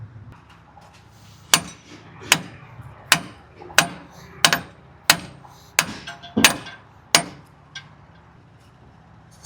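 Hammer blows, apparently on a crashed truck, about a dozen sharp metallic whacks at a steady, slightly uneven pace, loud and close over low background noise.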